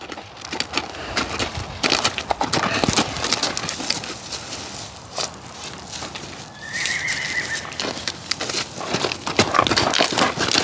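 A horse being worked at a trailer gives several whinnies and neighs amid scattered hoof clops and knocks on wood, moderately close, with brief pauses between bursts.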